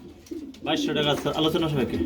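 A breeding pair of pigeons, a large male and a female, cooing close by at a farm sale, with a soft murmured call starting partway through and continuing steadily, while a voice talks faintly underneath.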